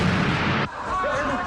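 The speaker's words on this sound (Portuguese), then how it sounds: "Uma explosão." A loud, dense blast of noise that cuts off abruptly, leaving a quieter ambient rumble afterward.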